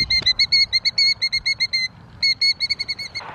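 A nesting bird guarding its eggs gives loud, shrill, rapidly repeated alarm calls in choppy bursts, close by, with a brief pause midway and no speech over it.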